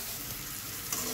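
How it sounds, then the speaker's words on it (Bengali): Slices of pointed gourd and pumpkin sizzle steadily in hot oil, a soft continuous frying hiss with faint crackles, close and quiet, no voices. "পটল আর কুমড়োটা আমাদের ভাজা হয়ে গেছে"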